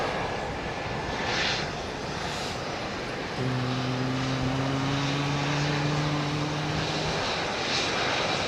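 A Boeing 777 near Heathrow's runway 27R gives a steady, distant engine roar over wind, and a clear droning tone joins midway for a few seconds.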